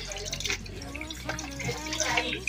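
Tap water runs onto a thawing chicken breast in a small home kitchen, a steady trickling and dripping stream that continues throughout at moderate loudness, with a voice speaking over it.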